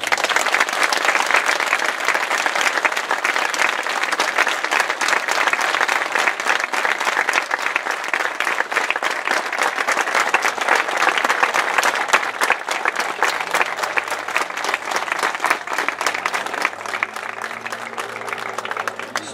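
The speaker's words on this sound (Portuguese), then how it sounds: "Eu queria que lhe dessemos uma grande salva de palmas." A large audience at a Portuguese community event breaks into a big, sustained round of applause, dense and steady throughout, with faint low sounds creeping in near the end.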